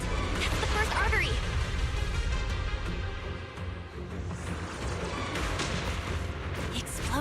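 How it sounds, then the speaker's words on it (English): Repeated heavy booms and blasts roll through a dense, noisy soundscape, with talk mixed in over the continuous rumble of game explosions. "Explosions are becoming more frequent."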